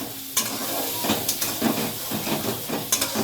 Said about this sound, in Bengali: এবার ভালো করে মশলাটা একটু নাড়িয়ে চাড়িয়ে নিচ্ছি